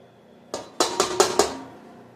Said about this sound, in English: So to our pot, we're going to add 3 to 4 pounds of apples